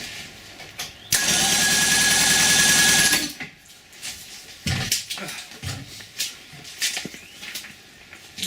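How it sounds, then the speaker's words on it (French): A boat engine cranked over with its spark plugs removed for a compression test gives a loud, steady, rapidly pulsing churn for about two seconds, then stops. Scattered clunks and knocks follow. "Là, je vais faire tourner le moteur comme ça à vide."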